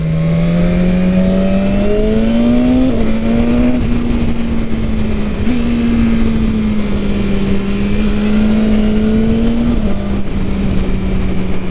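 A 2022 BMW S1000RR M Sport motorcycle accelerates hard in second gear, its engine and airbox giving a loud, continuous high-revving drone whose pitch climbs and steps slightly as the revs change, with no voices.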